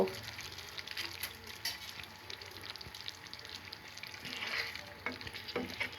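Green chilies and fried onion are added to egg korma cooking in a pan, giving a steady close sizzle and frying hiss with faint stirring clatter, no talking.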